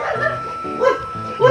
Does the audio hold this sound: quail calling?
no